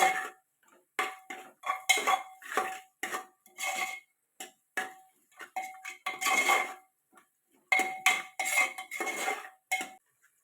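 Onions sautéing in a pan for biryani, stirred with a metal spoon that clinks and scrapes against the pan in quick, irregular bursts, close and crisp, with short pauses between strokes.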